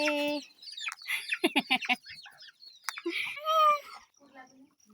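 Hens cluck in short bursts, including a quick run of rhythmic clucks, with a person's voice calling nearby in between.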